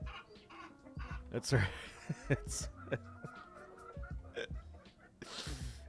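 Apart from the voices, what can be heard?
chicken boss Big Cluck clucking, from video game EOA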